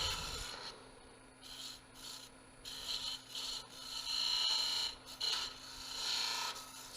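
A skew chisel scrapes and bites into wood spinning on a lathe, giving rough rasping bursts that swell and fade in uneven strokes over a steady low motor hum; no talking.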